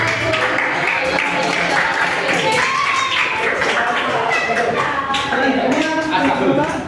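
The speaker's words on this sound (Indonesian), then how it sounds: "Tepuk tangan dulu untuk kelompok" A classroom of students claps for a student group, steady applause filling the room over several seconds while voices talk over it.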